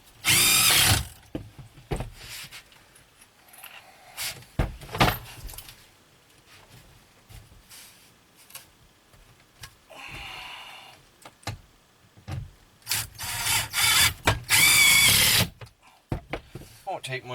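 A power drill drives screws into OSB panels on tiny house loft walls, several loud buzzing bursts separated by pauses, with someone talking in between and some handling clatter.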